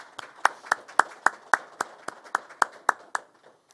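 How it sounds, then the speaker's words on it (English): A small group claps at a police academy graduation ceremony in Detroit, about a dozen evenly spaced hand claps that taper off near the end, fairly close with no talk over them. "with a round of applause"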